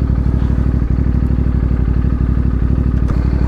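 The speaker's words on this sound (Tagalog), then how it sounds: "Tatabingin natin yung motor natin." A motorcycle on a coastal road in the Bicol region idles close by with a loud, steady, even putter while it is moved aside, with no talking over it.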